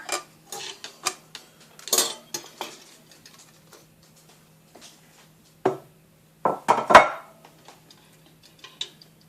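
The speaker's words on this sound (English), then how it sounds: "So I'm just taking a plate, putting over the top, and I'm going to flip it over." A plate is set over a low-carb carrot cake and the cake is flipped: a series of sharp ceramic clinks and taps, some close and loud, scattered irregularly over quiet gaps.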